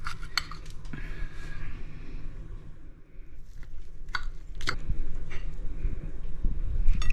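A knife cuts through a pecan cookie cake on a plate, giving close scattered clinks and scrapes of metal against the plate amid soft crumbly rustling, with a few sharper taps toward the middle.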